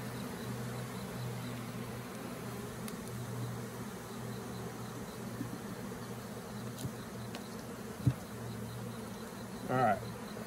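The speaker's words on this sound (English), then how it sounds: "Now I've got a few bees that are outside." Steady low honeybee buzzing hums through the whole stretch outside a hive, faint and continuous, with a brief louder buzz passing close near the end.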